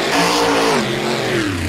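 Monster trucks launch off the start of a race, engines roaring loud and close with a rising then sliding rev pitch across a short burst, no voices over the engines.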